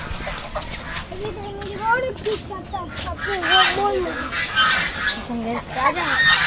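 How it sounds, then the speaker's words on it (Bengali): A flock of ducks, including drakes, quacks and honks repeatedly nearby on farmland, mixed with chicken clucking, over a noisy outdoor background. "এখানে অনেক হাঁস রয়েছে"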